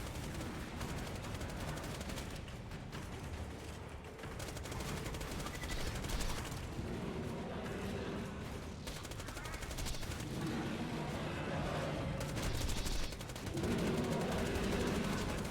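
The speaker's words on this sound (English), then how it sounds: "Deploying sentry. Auto guns, doing them up." Sentry auto guns in the Borderlands video game fire in dense, continuous bursts across the whole stretch, loud and steady with brief swells, layered with game noise and occasional talk.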